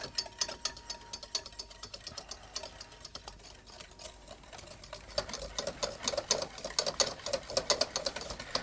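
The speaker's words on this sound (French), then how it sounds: "je vais donc commencer à blanchir mes œufs, blanchir, c'est-à-dire mettre le reste du sucre et blanchir mes jaunes d'œufs" Egg yolks are whisked with sugar in a bowl for pain perdu, a fast, steady rattling patter of the whisk that grows louder and busier in the second half.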